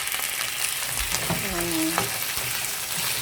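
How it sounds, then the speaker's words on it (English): Vegetables stir-fried in a pan with curry, giving a steady loud sizzle throughout, with a short tonal squeak of utensil or pan midway. "I'm just gonna stir fry with Snoopy."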